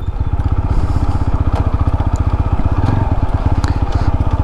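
TVS Apache RTR 160 4V motorcycle pulling away in first gear, its single-cylinder engine revving loudly up close with a rapid, steady pulsing beat throughout.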